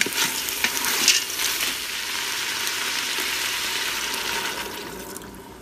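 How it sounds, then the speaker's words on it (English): Water pours into a hot Instant Pot on sauté mode while cooking Louisiana-style red beans and rice, a loud, steady hiss and sizzle with a brief splash at the start, settling into a continuous bubbling rush. "So I'm going to add in my water"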